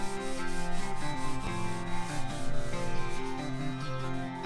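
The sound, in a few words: rubbing wax into cedar wood bed frame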